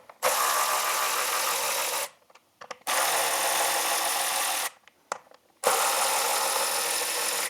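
Power tool spinning out 8mm hex head screws from a Triumph Thruxton RS motorcycle fender, heard as three sustained whirring runs separated by short pauses with faint clicks, close and loud.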